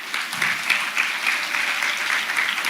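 A room full of people claps steadily and continuously, a dense even patter of applause without pause.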